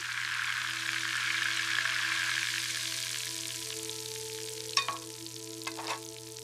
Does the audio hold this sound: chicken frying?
yes